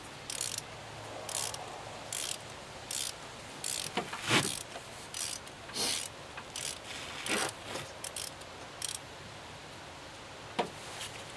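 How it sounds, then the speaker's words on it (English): A ratchet with a spark plug socket cranks in repeated short bursts of clicking on a 2008 Chevy Colorado 3.7 five-cylinder, close and crisp, each burst separated by brief pauses, with no talking. "Or a spark plug socket, I should say."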